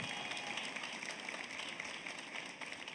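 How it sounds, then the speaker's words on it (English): An audience at a live fashion show during Honolulu Fashion Week 2015 applauds in a steady, continuous wash of clapping that stays fairly faint and distant throughout. "let's give a big round of applause for flying all the way from New York City"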